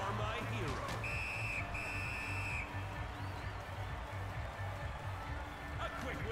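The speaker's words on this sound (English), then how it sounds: "whistle from a frozen puck" Referee whistle in an NHL hockey video game stopping play on a frozen puck, two bright sustained blasts early on over steady arena crowd noise and commentary.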